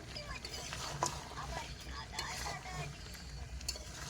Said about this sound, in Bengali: ভেজে রাখা আলুগুলো দিয়ে দেবো এতে